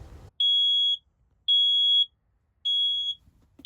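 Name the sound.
smoke alarm going off in small space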